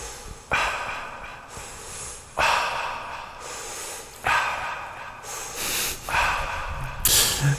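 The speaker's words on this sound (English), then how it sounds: "I actually recorded myself breathing" A person's breathing, recorded for a music track: four sharp, loud inhalations, one after another at regular intervals, each followed by a softer airy exhale, close to the microphone with no talk.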